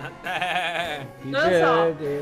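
Goats bleating, two wavering cries one after another, close and fairly loud, with someone speaking briefly around them.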